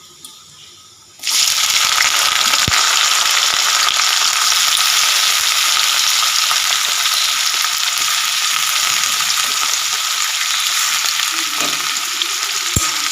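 Chopped onions dropped into hot oil in a pan burst into a loud, continuous sizzle that holds steady for over ten seconds, with an occasional faint clink of a utensil.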